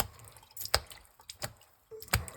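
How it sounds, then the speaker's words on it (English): Water drips from a tap opened up for a washer change, a few sharp, separate drops landing at uneven intervals, close and fairly quiet. "This one's got a bit of water coming out"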